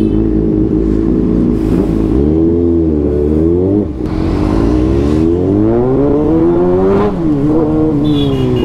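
A superbike engine with a free-flowing exhaust revs hard at a college fest, loud and close, its pitch climbing and dropping in repeated sweeps with a brief dip midway.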